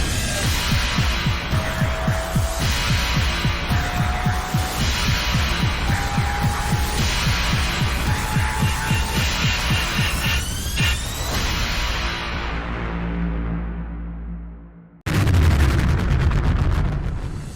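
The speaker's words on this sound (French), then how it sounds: "je lance le jingle" A jingle for the French podcast PUNCH'CAST plays as loud music with a throbbing, pulsing beat and rising tones, fades out, then bursts back with a sudden loud hit and sustained sound.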